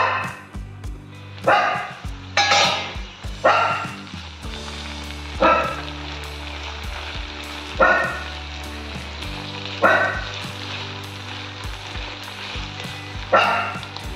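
Brinjal and dry prawns curry sizzles steadily in a pan, with louder bursts of frying and stirring arriving every couple of seconds over a constant hiss, close and clear with no talking.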